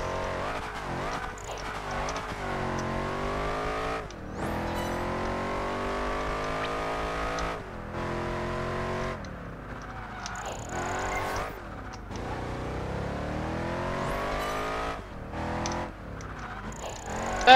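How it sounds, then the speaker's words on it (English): Car handbrake drifting in Project Gotham Racing 4: a revving engine with rising and falling pitch sweeps, broken by tire squeals and brief cuts in throttle, steady and close throughout. "We got a little bit of handbrake drifting going on."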